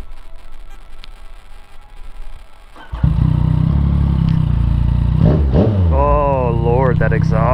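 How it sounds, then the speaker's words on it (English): A Yamaha FZ-09 motorcycle with an Arrow exhaust and the dB killer removed starts after a quieter stretch. It settles into a loud, deep, burbling idle, then revs up and down in rising and falling sweeps close by. "Lord, that exhaust."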